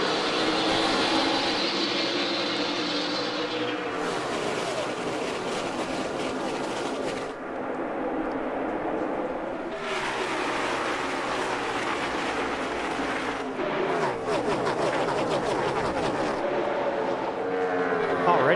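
A field of NASCAR stock cars starts the 2016 Kobalt Tools 400 at Las Vegas with a loud, sustained engine roar that swells and shifts as cars pass, while commentators talk over it.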